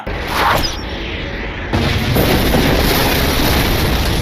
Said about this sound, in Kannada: ಅಣ್ಣ ಬಾಣ ಬಿಟ್ಟು UFO ನ ಬ್ಲಾಸ್ಟ್ ಮಾಡ್ತಾನ